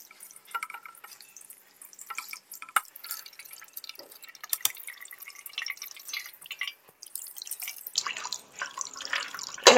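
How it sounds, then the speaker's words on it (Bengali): Water trickles and drips while fresh chhana milk curd is rinsed, with soft intermittent splashes and no talking. "এবার আমি একটু জল দিয়ে ধুয়ে নেব।"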